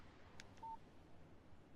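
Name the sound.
text message alert on phone, Alan Wake video game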